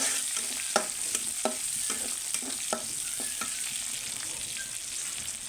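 Cumin seeds sizzling in hot oil in a pan, a bright, close frying hiss with a series of rhythmic stirring scrapes and taps through the first half, then steady sizzle alone.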